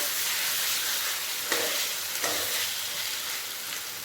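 Chicken pieces fry in oil for a dhaba-style Bengali chicken curry, a steady close hiss of sizzling with a couple of brief scraping stirs partway through, no voices.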